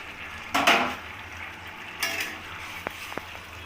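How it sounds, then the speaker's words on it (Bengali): A lid comes off a pot of cauliflower and potatoes with a metallic clatter, followed by a quieter scrape and two light taps against the cookware in a home kitchen. "5 মিনিট হয়ে গেছে, আমি ঢাকাটা খুলে দেখে নেব।"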